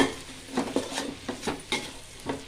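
Mint and coriander leaves sautéing in a pot, with a spoon stirring and scraping against the metal in irregular near strokes over a soft sizzle.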